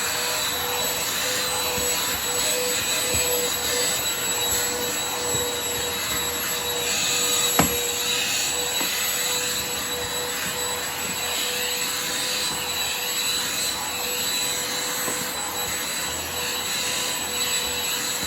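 Shark CH950UKT cordless handheld vacuum cleaning carpeted stairs, a steady high whirring motor drone running continuously with one brief bump partway through, no speech.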